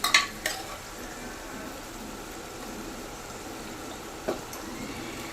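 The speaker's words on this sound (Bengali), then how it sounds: "মশলাটাকেই প্রথমে বেশি করে কষিয়ে নিতে হবে" Spice masala for ghugni is stir-fried in a pan, a soft, low sizzle under a few sharp metallic clanks of a spoon against the pan at the start and again later.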